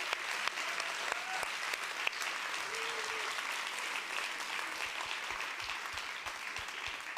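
Strong, sustained applause from an audience at a school awards ceremony for a short-film contest, steady dense clapping throughout with a few sharper claps standing out.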